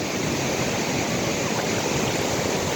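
Sea waves washing onto a shore make a steady, dense hiss of surf that stays even and loud throughout, with no voices or other sounds over it.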